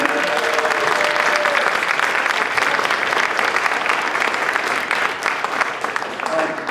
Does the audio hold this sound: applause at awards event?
yes